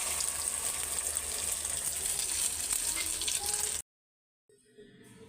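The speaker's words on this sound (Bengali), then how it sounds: "তো ডিমটা আমি এখন ভাইজা নিই" Eggs with onion and green chili fry in a pan with a steady, close sizzle that runs for nearly four seconds before cutting off abruptly, followed by a quieter stretch of faint kitchen noise.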